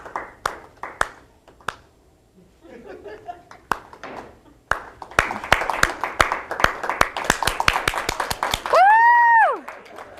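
Audience clapping at a talk on animal behaviour in a public library, with scattered claps at first, then faster, louder, denser applause near the listeners, and a short whistle-like whoop at the end.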